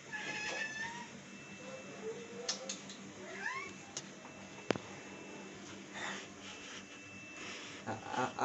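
A sick cat meows faintly a few times in a home kitchen, thin rising cries over low background noise, with a sharp knock or tap partway through.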